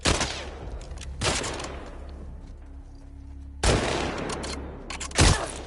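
Gunfire in The Last of Us Part 2, loud sharp bursts with ringing tails, a couple of shots near the start, then a heavy blast and a final crack after a quiet low hum.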